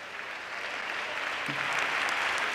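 An audience at a drag gala in Arrecife applauds in steady, dense clapping that holds at an even level throughout, with a brief vocal sound rising above it partway through.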